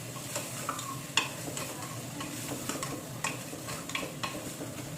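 Mutton with chillies and cherry tomatoes being stirred in a pan, a gentle sizzle under repeated soft scraping and clinks of a spatula against metal, close and quiet.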